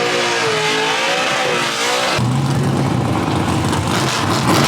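An all-wheel-drive Corvette drift car at SEMA 2022, engine revving hard and tires squealing in a sustained, loud burst with no talk over it.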